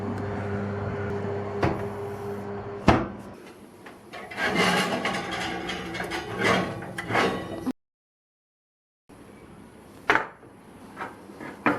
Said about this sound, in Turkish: önceden ısıttığım fırınımı açtım ve hemencik şu güzelleri fırına gönderiyorum.